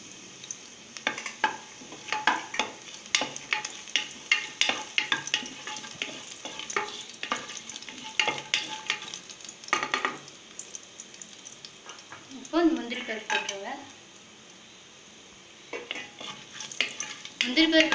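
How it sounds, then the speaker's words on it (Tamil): Garlic and whole garam masala fry in a pan for chicken biryani, with steady sizzling and repeated scraping strokes of a stirring spoon. The stirring pauses briefly, and a faint voice is heard. "லைட்டாக அந்த மாதிரி இருக்கும்போது பூண்டு போட்டு வணக்கிக்கோங்க"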